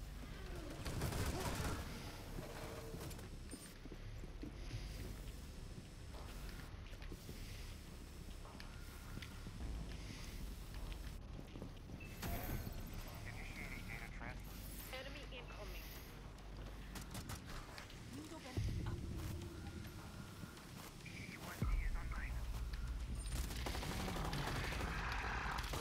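Bursts of gunfire from the game Rainbow Six Siege crack in rapid clusters and scattered single shots across the scene, sharp but fairly faint, with speech and game sounds mixed in.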